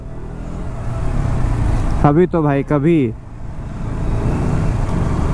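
Road traffic rumbles steadily past, with a continuous low roar of cars throughout and someone talking briefly in the middle.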